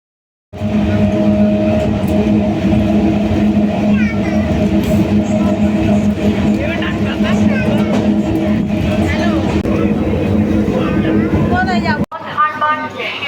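Passengers ride a train home, with a continuous loud rumble and rattle of the rail carriage rolling along. Voices and other onboard sounds rise over it, and the noise briefly cuts out near the end.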